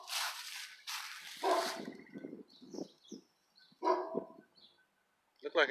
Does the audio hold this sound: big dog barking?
yes